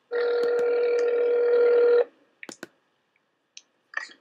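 A telephone dial tone plays steadily for about two seconds on a call and then cuts off. A few sharp clicks follow, with a faint voice-like sound near the end.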